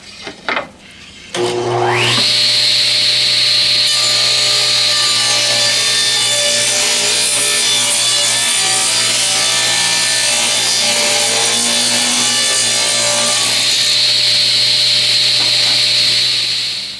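A table saw cuts along the edges of wooden shelf boards, trimming them straight. The blade spins up, then holds a loud, steady, whining cut for about twelve seconds before winding down. No voices are heard.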